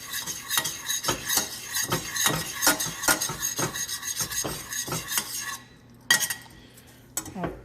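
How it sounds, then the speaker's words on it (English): Spoon stirring a sushi marinade mixture over a heat source that has just been turned off, with rapid, rhythmic metallic scraping and clinking against the pot, close and loud, then a brief pause and a few final taps. "Let me get some spoon to mix it"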